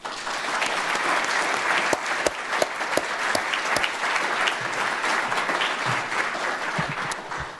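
Audience applause welcoming a speaker at an investing talk with billionaire Kenneth Griffin, a sustained, even burst of clapping from a sizable crowd with no voices over it.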